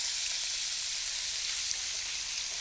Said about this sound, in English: put that in the hot pan with the olive oil and put some colour on it